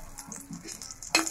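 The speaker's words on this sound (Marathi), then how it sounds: "तव्यावर अशी थोडा वेळ चमच्याने आपण उभी करून ठेवायची" Karli fish frying on a tawa, held upright with spoons, gives a quiet, soft sizzle with light scraping and stirring clicks, ending in a brief louder metallic clatter.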